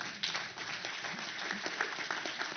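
An audience at a conference plenary session applauds after a speech, a sustained bed of many hands clapping with a few sharper close claps, moderately loud and continuous.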